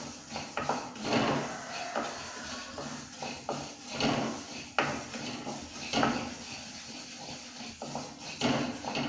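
Moong dal being lightly dry-roasted and stirred in a pan for pesara pappu pulagam, giving repeated close scraping and clinking of a spoon against the pan in an irregular rhythm with no talk.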